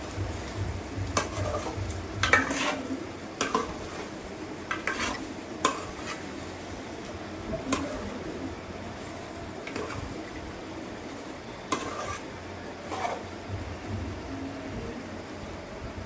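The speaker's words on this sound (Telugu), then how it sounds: "మసాలా అంతా కలిసేదాకా ఒకసారి కలుపుకుందాము." Pepper chicken fries with masala in a pan while a utensil stirs it, giving a constant close sizzle broken by repeated scraping and clinking strokes against the pan.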